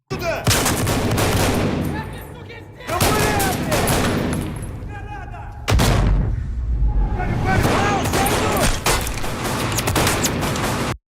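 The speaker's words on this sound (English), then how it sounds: "Yo, the sound of that grenade." Loud heavy gunfire and blasts from a filmed combat scene involving a grenade explosion, dense bursts of booming fire in three long waves with brief lulls between.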